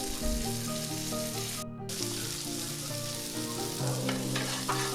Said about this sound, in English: Then we gonna go ahead and get our bread onto the griddle.